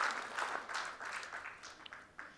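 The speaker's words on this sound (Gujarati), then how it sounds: "એમને પણ જોરદાર તાળીઓથી વધાવી લો" An audience at a school lecture-series event claps, a brief burst of applause that swells and then thins out unevenly, moderately loud and without speech over it.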